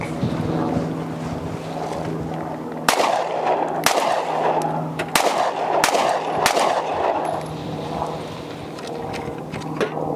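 A Sig P365XL Spectre Comp pistol fires at an outdoor range: five or six sharp, loud shots at irregular spacing, over steady wind noise buffeting the microphone.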